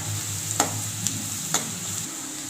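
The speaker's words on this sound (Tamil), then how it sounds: "வெங்காயம் பார்த்தீங்கன்னா ஒரு அரை வேக்காடு வெந்தால் போதுங்க." Steady sizzling of onions frying in a pan, with a few sharp scrapes of a spoon stirring.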